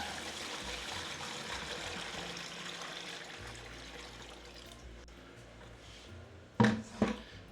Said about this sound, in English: So let's start adding our water.